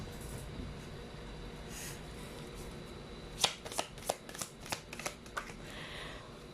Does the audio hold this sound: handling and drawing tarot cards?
yes